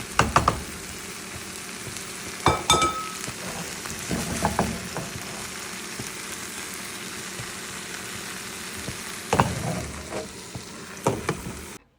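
Chopped capsicum fries in a pan with a loud, continuous sizzle, punctuated by several bursts of scraping and stirring against the pan.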